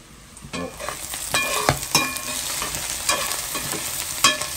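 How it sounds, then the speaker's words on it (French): Onions and dried octopus frying in a pot, a steady close sizzle broken by repeated scraping stirs and clacks of a utensil against the pot. "Les oignons bien roussis avec le zourite."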